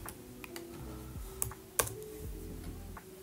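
Someone types an email address on a computer keyboard into a web form field: a close, quiet run of irregular plastic key clicks with two sharper taps near the middle and no voices.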